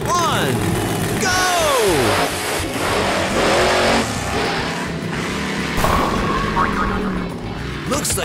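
A toy monster truck drives into bowling pins with a loud, continuous revving engine and wheel noise, and people talk over it throughout.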